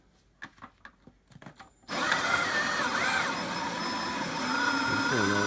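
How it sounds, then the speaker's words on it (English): An AEG cordless drill spins up to power a grain mill, a loud, steady motor whine with grinding rumble that starts abruptly after a few light taps and clicks and runs continuously to the end. "which is powered by a AEG Almighty Egg Gang cordless drill."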